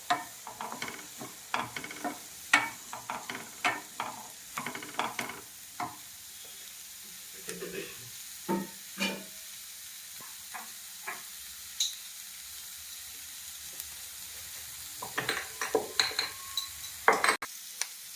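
Spice powders frying on low flame in a pan for a bottle gourd and moong dal curry, with a soft steady sizzle under repeated scraping and stirring strokes of a spoon, close and moderately quiet, no voices.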